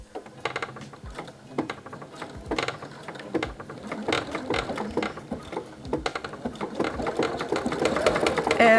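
A sewing machine stitches a blouse border seam, starting with scattered clicks and short bursts and building into a faster, steadier mechanical whirr with rattling gear sounds, close and clear, with no speech.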